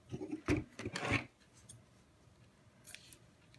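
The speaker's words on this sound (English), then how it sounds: "And then we'll trim the edges, trim the ends off." Scissors snip the loose ends off a double knot in a crafting session: a few quick, close snips in the first second, then quiet, with one faint rustle near the end.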